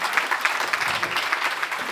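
Audience applause at the re:publica 2022 conference after a talk on degrowth, a steady wash of many hands clapping at moderate volume for a couple of seconds with no voices.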